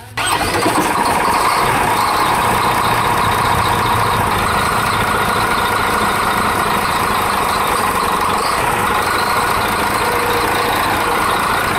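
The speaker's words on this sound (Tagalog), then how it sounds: "So yun guys, start na engine." A Weichai diesel engine cranks and catches after a new injector is fitted, then settles into a steady, loud, close idle with a continuous rumbling drone and no talk.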